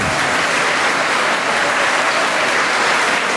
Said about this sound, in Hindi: एक बार अपने लिए जोरदार तालियां बजाइए।